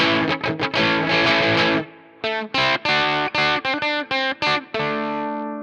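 A heavily distorted electric guitar through a Mesa Boogie Mark IV amp simulator with boosted high frequencies plays a sustained chord, then a series of choppy, staccato chugs with sharp stops between them.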